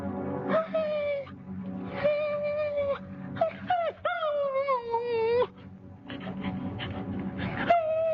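A dog whimpers and whines in a series of drawn-out, high, wavering cries, close and fairly loud, with short pauses and a faint panting in between.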